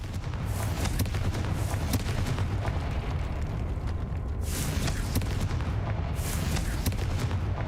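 Confringo fire spell explosions in Hogwarts Legacy, heavy sustained rumbling booms with crackling bursts, loud throughout, with two sharper blasts later on.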